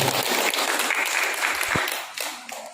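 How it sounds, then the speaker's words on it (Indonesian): A crowd at a choir competition applauds steadily for a few seconds, the clapping thinning out toward the end. "tepuk tangan buat kami."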